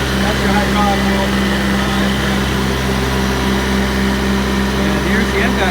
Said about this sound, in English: And here's the Enpak unit. It's actually pretty quiet. Idle down right now.